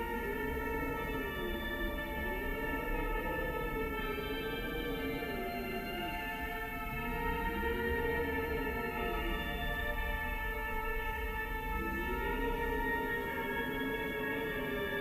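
A melody from the video game Fatal Frame 4 plays as a slow, wavering tonal line with gliding pitches over a sustained droning backdrop, steady in loudness throughout with no speech.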